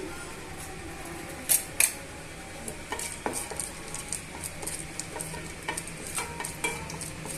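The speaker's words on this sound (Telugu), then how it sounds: "ఇందులోనే ఉల్లిపాయ ముక్కలు పచ్చిమిరపకాయ ముక్కల్ని యాడ్ చేసుకోవాలండి" Onion and green chili pieces fry in a pan over a steady low sizzle, with two sharp metallic clinks early on and a run of light spatula taps and scrapes against the pan.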